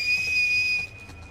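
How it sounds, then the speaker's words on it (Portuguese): A Scars' signal whistle in The Last of Us Part II, one sustained, clear, high-pitched whistle held for nearly a second before cutting off, with only faint background ambience afterward. "Esse é o assobio do cicatrizes."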